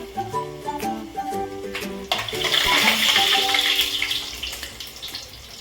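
Chopped ginger pieces go into oil in a pan, setting off a rising sizzle and hiss after a few soft clinks. The frying swells to a steady, close crackle with no talking.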